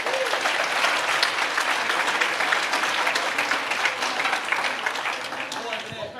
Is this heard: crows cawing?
no